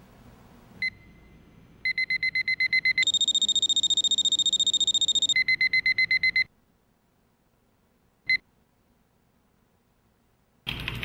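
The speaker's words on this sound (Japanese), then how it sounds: "時間になるとアラームが鳴る" An electronic alarm from a keyboard timer rings in rapid repeated high-pitched beeps, rising to a louder, higher tone before dropping back and stopping, with isolated single beeps before and after.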